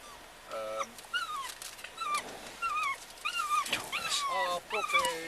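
A puppy whimpers and yips in a series of high, wavering whines, close and fairly loud, recurring every second or so, with a person speaking softly in between.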